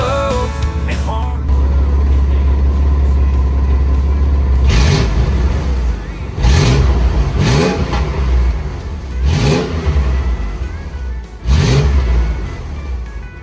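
A 4.0L car engine with a straight-pipe exhaust idles low, then gets blipped five times in sharp, loud revs that snap up and fall back, each with a raspy, unmuffled bark.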